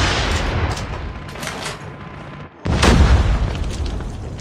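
Explosion of an enemy sentry gun in the shooter game Call of Duty Mobile: a sudden heavy boom cuts in partway through, following dense gunfire and battle noise, loud and close.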